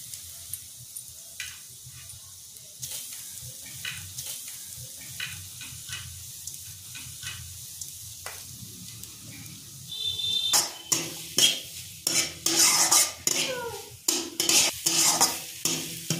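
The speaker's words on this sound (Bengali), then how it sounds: "গাজরটা 2-3 মিনিট আমি নেড়ে চেড়ে ভালো করে কষে দিয়েছি।" Grated carrot fries in a little white oil: a quiet sizzle with light scrapes at first, then loud, rapid spatula scraping and stirring against the pan for the last several seconds.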